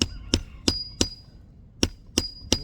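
Hammer strikes on roof shingles to lift a nail: seven sharp, ringing blows in a steady rhythm, close and distinct, with a short gap before the last three.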